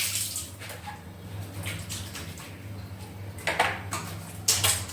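Hands are washed under running water in a home kitchen while making chapati, a close, continuous splashing stream with a few louder bursts toward the end.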